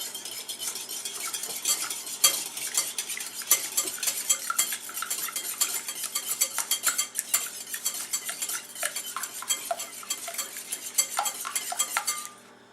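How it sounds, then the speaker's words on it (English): Eggs whisked together in a bowl, a rapid run of light metallic clicks and taps against the bowl, close and steady for several seconds before stopping, no voices. "Whisk them together."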